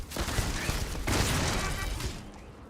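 A turret in Starfield Shattered Space fires a dense, continuous burst of shots that rolls on loud and steady for more than two seconds, then fades slightly at the end.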